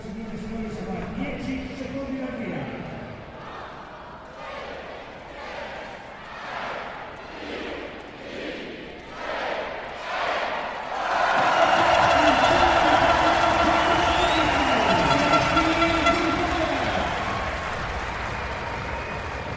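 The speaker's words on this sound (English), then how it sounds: "That was the crowd cheering Fabio Sabatini, the first rider to tackle the opening stage time trial here in Apeldoorn" A roadside crowd at the Apeldoorn opening time trial of the 2016 Giro d'Italia cheers as the first cyclist sets off, a loud sustained roar that swells midway and carries on, with a commentator talking over the earlier part.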